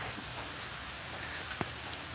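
Steady rain falls outdoors as an even, dense hiss, with a couple of faint isolated drips or taps standing out and no voices.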